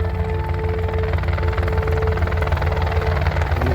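A helicopter approaching to land on the Everest Base Camp trek, its steady rotor thump and engine drone filling the clip, loud and close, with no talking.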